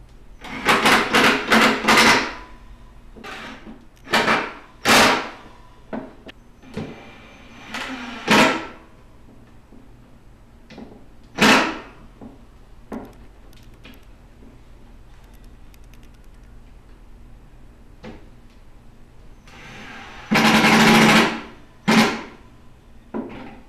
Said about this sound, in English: now I just got to screw them down, and the top will be a part of the rest of it